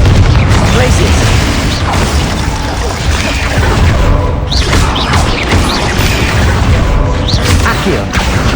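A loud, continuous roar of blasts and crashing from Confringo fire spells in Hogwarts Legacy, dense combat noise with no pause.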